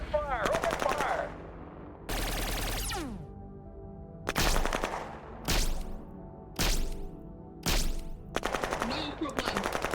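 Machine-gun bursts from the strategy game Shadow Empire ring out loud and sharp in repeated separate volleys, each a rapid rattle lasting about half a second to a second, with short gaps between them.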